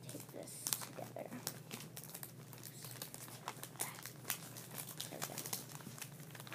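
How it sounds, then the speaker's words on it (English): Sticky tape crinkles and tears in short bursts as it is pulled to join loose journal pages, close and fairly quiet with irregular crackling throughout. "I'm going to tape together these pages because they're, like, loose"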